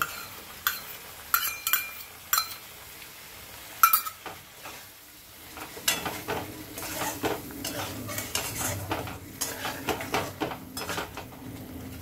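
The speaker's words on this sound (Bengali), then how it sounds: "এবারে কাজু বাটাটা আমি দিয়ে দেব" Cashew paste is stirred into egg korma in a pan, with a spatula scraping and clinking against the metal over a soft sizzle, close and steady with no talking.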